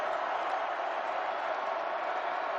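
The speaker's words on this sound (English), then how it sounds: "Listen to this crowd." Stadium crowd at a Texas Tech Red Raiders vs Baylor Bears college football game: a steady, dense roar of many voices, loud and unbroken, with no clear single speaker.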